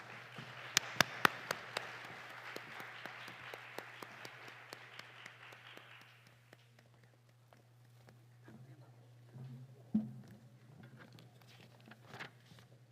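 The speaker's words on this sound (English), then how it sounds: "Let's give the 3 co-chairs a huge round of applause." An audience at a business summit applauds the three event co-chairs, a fairly faint burst of clapping with a few sharp nearby claps that fades after about six seconds, leaving a low hum, scattered footsteps and quiet movement.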